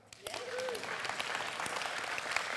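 An audience claps steadily throughout, a dense patter of many hands in a large room, with a faint voice briefly underneath.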